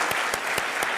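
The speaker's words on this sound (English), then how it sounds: "Let's give them a big round of applause." Audience at a medical school Match Day ceremony applauds for academic affairs staff, a thick steady wash of clapping with a few sharper claps standing out, brief and fairly loud.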